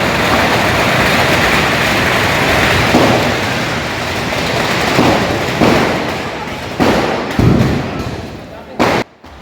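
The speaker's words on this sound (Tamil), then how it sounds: "புத்தாண்டை வரவேற்கும் விதமாக வான வேடிக்கை டிடிடிஏ பள்ளி மைதானத்தில் வைத்து நடைபெற்றது" A New Year fireworks display on a school ground rumbles with dense crackling and booming bursts, loud and continuous, then a few sharper separate thumps near the end.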